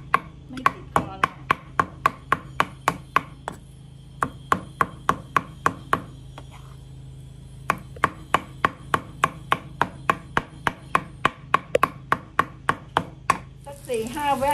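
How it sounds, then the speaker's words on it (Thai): Fermented fish being chopped finely with a knife on a cutting board for Thai chili paste: a long run of sharp, steady, close chops in quick rhythm, with brief pauses, heard alone. "พลิกไปพลิกมาสับให้ละเอียดค่ะสับทางไปทางมานะคะก้างมันจะได้ไม่ติดคอเลย"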